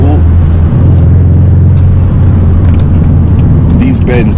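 BMW 1 Series E82 with a six-speed manual gearbox driving through bends, a steady loud engine drone with low road and cabin rumble throughout, and a voice speaking briefly near the end.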